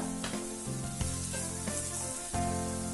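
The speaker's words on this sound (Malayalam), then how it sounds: "അതിനകത്തേക്ക് നമ്മൾ അരിഞ്ഞു വെച്ചിരിക്കുന്ന സവാള ചേർത്തൊന്ന് നല്ല പോലെ വഴറ്റിയെടുക്കുക" Chopped onions sauté in coconut oil with a continuous close sizzle, broken by several clanks and scrapes of a spoon against the pan and no voices.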